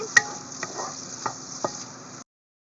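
Pork sisig is stirred in a pan, giving a faint steady sizzle broken by a handful of sharp scraping knocks from the utensil, with no talking, before it cuts off abruptly.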